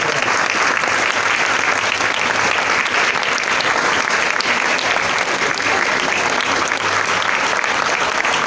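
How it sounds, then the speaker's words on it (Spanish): Sustained applause from a large crowd at a secondary school assembly, steady and loud throughout with dense clapping and no pauses. "Vamos a dar un aplauso"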